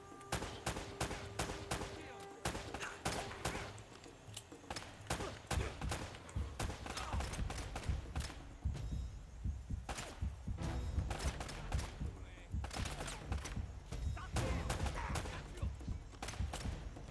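Rapid bursts of gunfire from the video game Uncharted, with repeated sharp shots and automatic-weapon volleys crackling densely throughout, loud and continuous with occasional heavier thuds.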